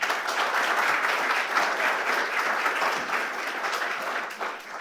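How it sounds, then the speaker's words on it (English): An audience claps for the hosts at a Supe Tank 3.0 presentation event, a sustained dense round of applause at moderate loudness that tapers slightly toward the end. "Let's give them a round of applause as well"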